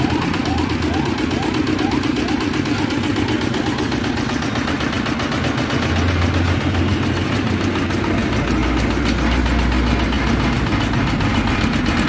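A Firman FTL 1000 PDE rotary tractor's engine runs continuously at close range, a loud, dense rapid chugging that holds steady throughout, with a slight shift in pitch partway through.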